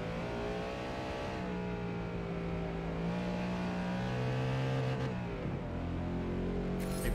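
A Ford Mustang muscle car's engine drones loudly and steadily in a Forza Motorsport race at Grand Oak or Homestead Miami, pitch climbing and dropping with gear shifts and throttle, uninterrupted by speech.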